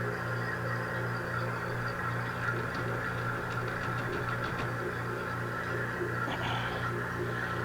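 A vacuum machine runs during bronze casting investment, giving a steady low hum and drone with faint intermittent ticking and rattles, no talk.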